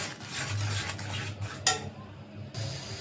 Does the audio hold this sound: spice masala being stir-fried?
yes